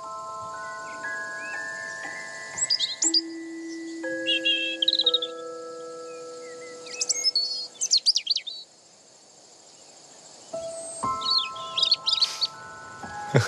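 Game birds call in bursts of chirps and trills across an open hunting ground, repeated several times over sustained tones and a faint insect-like buzz.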